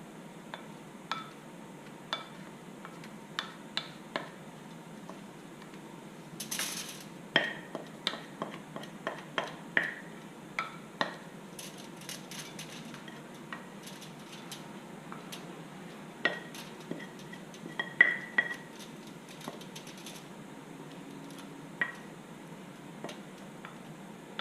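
Granola spread across a foil-lined baking sheet gives faint, quiet scrapes, with scattered light taps, clicks and crinkles at irregular intervals.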